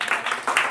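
Students in a maths classroom break into a brief burst of clapping, a short, loud patter of hands lasting under a second.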